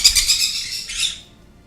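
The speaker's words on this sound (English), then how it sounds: "Was the bird calling Alex?" A bird lets out two loud, harsh squawks in quick succession close by, the second trailing off into quiet.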